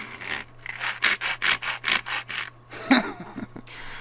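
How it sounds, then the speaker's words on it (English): A series of rhythmic scraping rubs of Dina Wakley Media Scribble Sticks crayons on a craft mat, about ten strokes in steady succession, close and fairly loud, with a sharper scrape near the end. "They make weird noises on the mat"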